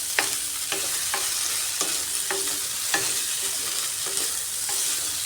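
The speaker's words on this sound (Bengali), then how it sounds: "আলু আর সোয়াবিনটা একটু হালকা ভেজে নিচ্ছি।" Potato pieces and soybean chunks fry lightly in oil with a continuous close sizzle. A spoon taps and stirs against the pan in a steady run of about a dozen short knocks, and nobody speaks.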